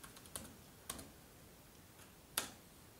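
Keys on a computer keyboard are tapped sparsely while a password is entered on a Mac, giving a few quiet, separate clicks with gaps between them.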